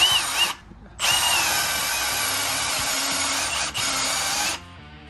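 A high-pitched power drill with a reamer bit whines in two long bursts through a Jeep WJ Grand Cherokee steering knuckle, separated by a short pause, with a brief dip near the end, close and loud.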